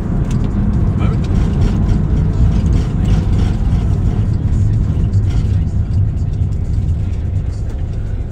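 A VW T5.1 camper van idles with a loud, close, steady low engine drone that holds an even, unbroken tone throughout.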